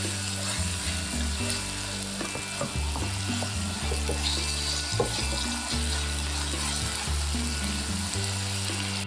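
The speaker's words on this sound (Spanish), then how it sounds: "Le agregás una cucharadita de sal y vas a revolverlo hasta que la cebolla esté transparente." Chopped onion with a teaspoon of salt sizzles steadily in a pan, with occasional scraping clicks from stirring over the continuous frying hiss.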